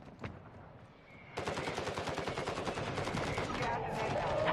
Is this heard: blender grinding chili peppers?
no